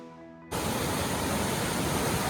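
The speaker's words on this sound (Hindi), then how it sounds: "पानी की बहती आवाज़ और हर तरफ हरियाली, ठंडक, ये एक अलग ही सुकून देती है।" Flowing water near a green, cool spot around Nainital starts abruptly after a faint tonal hum and becomes a loud, continuous broadband rush.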